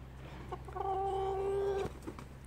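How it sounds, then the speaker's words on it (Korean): A chicken gives a few drawn-out, nasal clucking calls, fairly close, over a low steady hum, ending with a sharp sudden knock. "아, 큰 병아리가 무섭구나, 꼬꼬는"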